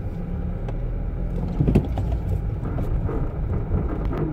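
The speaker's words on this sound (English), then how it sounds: "You hear that noise? That's a traction control system on it." A 2015 Nissan Micra's traction control engages during attempted spins, giving a rough, fluttering mechanical drone with uneven pulses and a brief louder surge midway, heard close and steady without talk.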